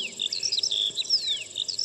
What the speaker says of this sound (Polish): I od razu wszystkie ptaki. Szczebiot, świegot, zgiełk.